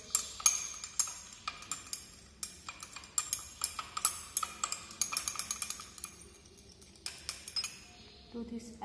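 Glass stirring rod clinking repeatedly against a glass beaker of sodium carbonate dissolving in purified water, a quick irregular run of bright close taps lasting several seconds.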